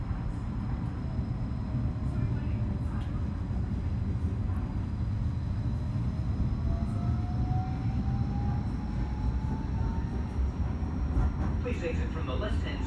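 A Gold Coast G:link light rail tram runs near Hellensvale with a steady, continuous rumble and faint high wheel squeals rising and falling throughout.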